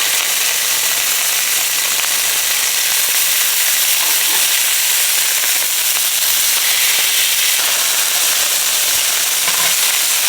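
Steaks searing in a hot pan give a loud, continuous, broadband sizzle and hiss that stays steady and close throughout, with no talking.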